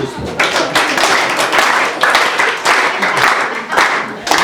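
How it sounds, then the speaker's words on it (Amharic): A church congregation claps in a steady rhythm, loud close bursts of hand claps repeating about every half second, with voices mixed in. "አጨብጩ"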